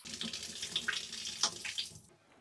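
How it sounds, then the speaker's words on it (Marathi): Mixed lentils swished and rubbed by hand in a generous amount of water, close-up splashing and sloshing with a few sharper drips, then quieting at the end. "भरपूर पाणी घ्यायचं आणि शक्य असलं तर हाताने अशी खळखळून डाळींवरची माती काढून घ्यायची."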